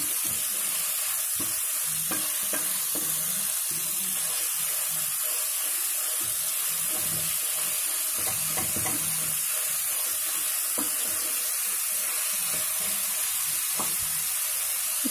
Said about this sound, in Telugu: బాగా వాటర్ బయటకు వచ్చేటట్టు వేయించాలి.